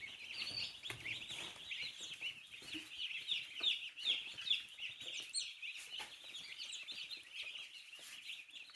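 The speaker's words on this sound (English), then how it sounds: "Yeah, I see the chicks." Meat-bird chicks and chickens cluck and peep continuously at close range, a busy, fairly quiet chatter with no talking.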